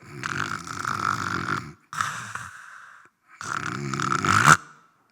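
A man imitates loud snoring with his voice, three rough rasping bursts with brief pauses between them, the last ending in a sharp snort, close and clear with no other talk.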